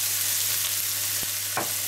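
Chopped onion with a pinch of salt sautéing in hot oil in a frying pan, giving a steady close sizzle with a low steady hum beneath and one or two brief clatters of stirring, no talking.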